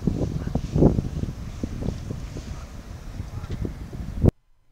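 Strong beach wind of around 30 km/h buffeting the microphone in loud, continuous rumbling gusts that pulse unevenly before cutting off abruptly.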